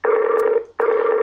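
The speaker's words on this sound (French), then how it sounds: "Première sonnerie. Deuxième sonnerie." Telephone ringing during a call, two buzzy electronic rings heard as earpiece tones separated by a short gap, loud and close with no talk.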